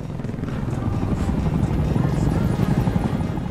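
Helicopter arriving in the PSVR game Blood & Truth, a loud steady rotor chop and turbine roar filling the whole stretch, close and continuous.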